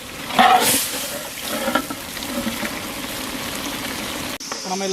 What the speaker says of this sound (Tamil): நம்ம இதில் தண்ணி ஊற்ற போகிறோம்.